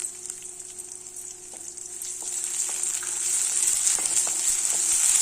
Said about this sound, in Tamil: நல்லா வதக்கி விட்டுருலாம் இது பாதி வெந்துட்டு இருக்கும்போதே நம்ம இந்த இஞ்சி பூண்டு விழுதை வந்து இதில் சேர்த்துடலாம்